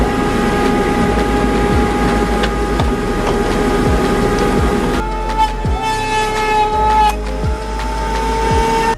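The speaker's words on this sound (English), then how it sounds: "let's head over to the router and router out this shape" A router cuts out a shape for a custom mount during a Camaro car audio upgrade, a loud, steady motor whine with a rough grinding undertone that shifts in pitch and texture about halfway through, with no talking.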